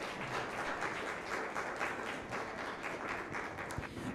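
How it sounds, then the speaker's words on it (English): An audience at the Uganda Deep Tech Summit applauds a former Twitter product head being introduced, a steady, moderately loud spread of clapping that holds evenly throughout. "Please give him a big round of applause."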